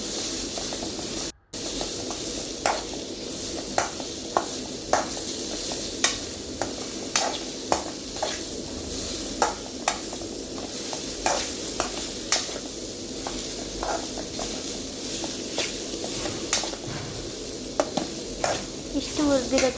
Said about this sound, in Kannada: ಫುಲ್ ಚೆನ್ನಾಗಿ ಹುರಿಬೇಕು ಕ್ಯಾರೆಟ್ನ